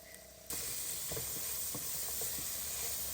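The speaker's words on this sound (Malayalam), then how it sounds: "എല്ലാം വെച്ചിട്ട് നമുക്ക് നന്നായിട്ടൊന്ന് വഴറ്റി കൊടുക്കാം ഇനി നമുക്ക് അതിനകത്തേക്ക് ഓണിയൻ ഇട്ട് കൊടുക്കാം" Onions dropped into a hot pan for restaurant-style chilli chicken burst into a loud, steady sizzle, with light stirring clicks over the continuous hiss and no voices.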